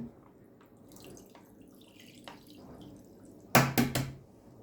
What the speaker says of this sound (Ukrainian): наливаю молоко